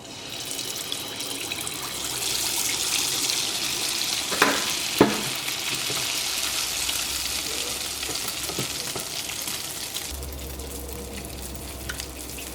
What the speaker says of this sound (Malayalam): അപ്പം മുട്ടയപ്പം വറുത്തെടുക്കാനുള്ള ഓയിൽ നന്നായിട്ട് ചൂടായിട്ടുണ്ട്